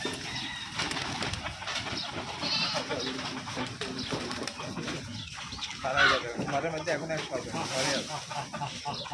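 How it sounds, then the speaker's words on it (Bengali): Rajshahi Giribaz pigeons coo softly inside a crowded loft, a low continuous murmur mixed with other bird noises and background bustle while a person talks nearby. "আরো অনেক কবুতর ঘরের মধ্যে আছে"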